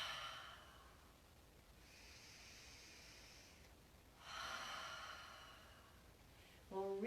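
Slow audible breaths in and out during a guided anxiety-relief breathing exercise, a long airy exhale followed by another broad breath, quiet and close, with a brief voiced sound at the end.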